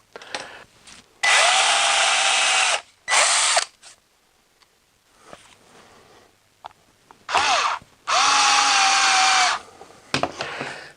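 A power driver drives screws into a large lathe faceplate in several whirring bursts, each winding up and stopping abruptly, with quiet handling noises in the gaps between runs.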